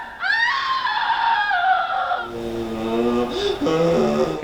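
Screaming effects from a Halloween spooky-sounds vinyl record: a long, loud wailing scream that slides downward, followed by lower, wavering shrieks and cackling cries, close and unbroken.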